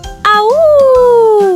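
A voice imitates a wolf howl, a single long rising then slowly falling wavering note that starts after a brief pause and holds to the end, loud and close.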